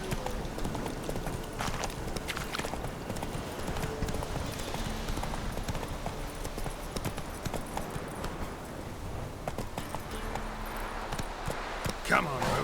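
Roach the horse gallops in The Witcher 3, rapid hoofbeats clip-clopping continuously under game ambience while a player talks over parts of it.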